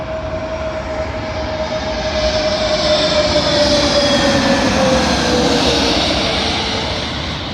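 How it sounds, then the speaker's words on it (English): A British Airways Airbus A321neo airliner arriving at London Heathrow on runway 27L roars steadily and loud throughout, with a broad jet rumble and a faint falling engine whine as it passes close by, no talk. "Arriving in now is a British Airways A321neo, working service from Nice to London Heathrow."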